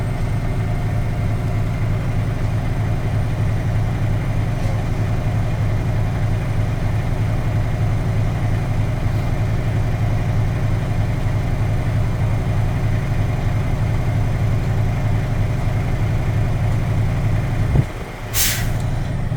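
A diesel truck engine runs steadily at a raised idle of 1,000 to 1,500 RPM to build air pressure, a loud continuous rumble, ending with a sharp hiss of air release near the end.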